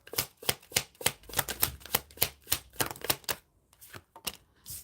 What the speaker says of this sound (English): when I was shuffling, that card fell out and I put it on the bottom